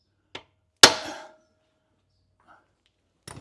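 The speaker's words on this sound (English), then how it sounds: "you can use a hammer and a punch and try to shock the threads" Two sharp metallic strikes of a hammer on a punch set atop a seized bolt on a 1972 Mercedes 280SE 4.5 engine, the second louder with a brief ringing tail, followed by silence and another hit.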